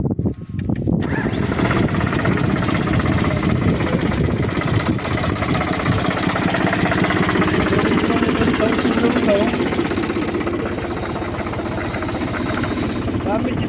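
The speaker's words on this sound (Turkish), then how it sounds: "Ben bir traktörü çalıştırayım." A farm tractor engine turns over and settles into a loud, steady running rumble, close by, powering a custom-built manure tank used for fertilizing walnut trees, with faint voices underneath.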